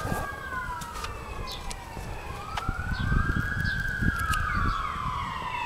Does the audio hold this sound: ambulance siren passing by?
yes